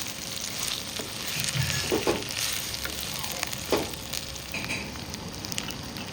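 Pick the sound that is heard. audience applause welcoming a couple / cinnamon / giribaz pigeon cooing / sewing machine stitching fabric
cinnamon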